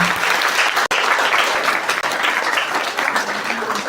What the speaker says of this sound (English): A round of applause for him once more.